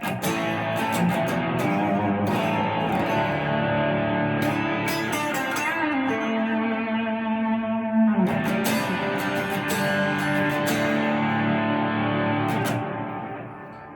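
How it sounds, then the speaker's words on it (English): Sustained electric guitar chords through a Kemper amp profile, drenched in reverb, ringing and washing into one another, with a shift in harmony midway and a tail fading at the end. "it'll add more of that reverb sound for you"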